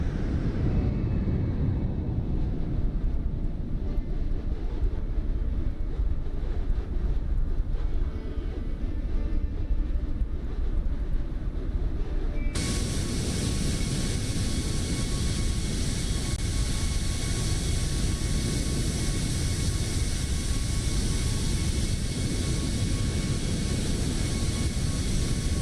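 An aircraft in Microsoft Flight Simulator passes by, a loud continuous engine roar that shifts abruptly to a brighter, hissier tone midway and holds steady to the end.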